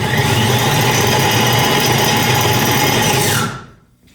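Ryobi battery electric snowblower with a faulty impeller and auger that are not turning, starting up with a loud, steady motor whir that holds for several seconds, then cuts off and spins down into quiet.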